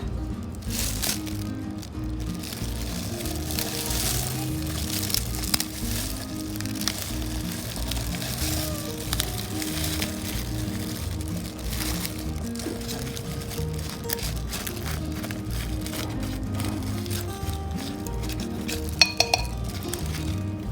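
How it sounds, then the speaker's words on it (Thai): Thai shrimp paste chili dip with eggplant is pounded in a mortar, a dense, continuous run of close, rapid knocks and clacks with a crushing, clattering texture throughout. "ค่อยๆโขกค่ะ โขกจนเข้ากันดีแล้วก็ใส่กะปินะคะ"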